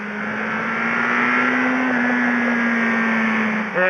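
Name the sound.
air-cooled four-cylinder motorcycle exhaust revving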